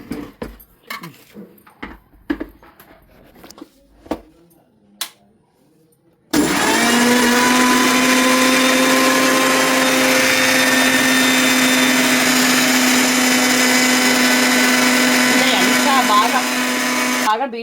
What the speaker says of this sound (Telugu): ఇప్పుడైతే మాత్రం మిక్సీ వేసేస్తాను.